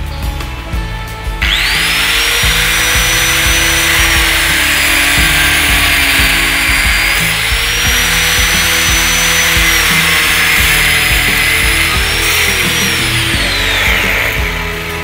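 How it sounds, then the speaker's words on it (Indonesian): Power tool cutting a used PVC pipe off an elbow fitting, starting with a click and then a loud, steady high-pitched whine and grinding hum that lasts more than ten seconds before tapering near the end. "kita bisa lihat ini telah dipotong ya"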